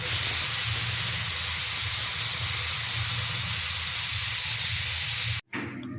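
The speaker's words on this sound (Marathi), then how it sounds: "आपल्याला चार शिट्या काढून घ्यायच्या आहेत कुकरला" A loud, steady hiss of steam jets out continuously for several seconds from a pressure cooker whistling while cooking mutton, then cuts off abruptly near the end.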